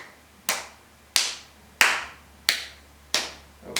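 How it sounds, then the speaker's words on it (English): Six sharp, evenly spaced hand claps ring out one after another in a yoga class, each a crisp single slap with a quick decaying tail and nothing else around them. "Clap."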